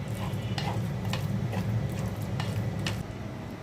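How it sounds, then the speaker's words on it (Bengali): Mashed data greens and dried fish being mixed with mustard oil, a continuous close squelching and stirring with occasional soft taps, faint sizzle-like texture underneath and no voices. "এখন অল্প করে আরেকটু সরিষার তেল দিয়ে দিচ্ছি, ভালো করে মিক্সড করে নিচ্ছি।"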